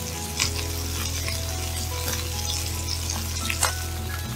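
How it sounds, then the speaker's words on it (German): Veal fillet sears in a hot pan with a dense, continuous sizzle and crackle, occasional louder pops and stirring scrapes, close and with no talking. "Das wird jetzt so circa insgesamt 3 bis 4 Minuten angebraten,"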